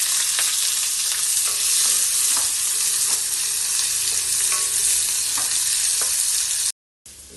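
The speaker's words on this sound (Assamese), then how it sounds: "পিঁয়াজকেইটা দি দিছোঁ" Chopped onions sizzle steadily in hot oil in a pan for a chicken curry, a loud continuous hiss broken by faint spatula scrapes, then a brief cut to silence near the end.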